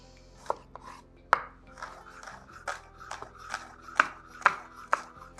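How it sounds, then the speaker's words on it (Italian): Knife chopping an onion on a board, a series of sharp, irregular chops close by, with faint rubbing between strokes. "iniziamo con il tritare una cipolla"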